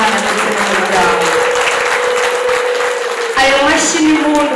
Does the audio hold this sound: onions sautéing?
no